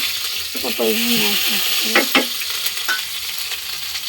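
Chopped chilli, ginger and garlic hit hot oil in a very hot kadai with a steady, close sizzle and a few sharp crackles and spits, no talking.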